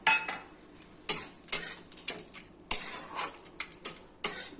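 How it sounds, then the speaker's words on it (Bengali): Broken fried lentil dumplings added to pea greens frying in a pan, heard as sharp metal spatula knocks and scrapes in an uneven rhythm over a faint sizzle, close by with no talk. "এখন ভাঙা বড়িটা দিয়ে দিলাম"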